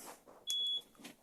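A single short, high-pitched electronic beep sounds as the alarm on a campervan arms, clear and brief against quiet background noise.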